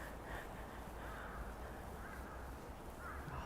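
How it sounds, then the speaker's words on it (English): Big black crows caw faintly and at a distance over steady street ambience in Fukuoka, Japan, a few scattered calls rising briefly above the background hum. "those big black crows"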